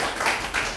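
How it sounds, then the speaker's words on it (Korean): Brief burst of clapping from a church congregation at a memorial worship service, dense and steady for under a second, with a slight swell midway. "다시 한번 박수."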